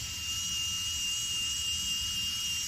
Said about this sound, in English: When you press the foot pedal, the motor will on.